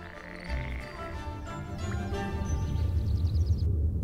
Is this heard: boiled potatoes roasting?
no